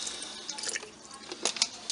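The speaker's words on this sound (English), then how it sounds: "I'm gonna add a touch more water." Water trickles and drips into a sourdough starter, a faint, close series of small splashes and patters over about two seconds.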